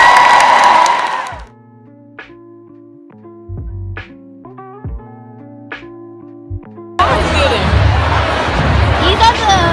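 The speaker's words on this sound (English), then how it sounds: "Let's give them a round of applause." A crowd at a Howard University screening presented by Universal Pictures and Monkeypaw Productions bursts into applause and cheering near the end, loud and dense, after a stretch of music with scattered crowd noise at the start.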